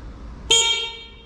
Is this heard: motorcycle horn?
yes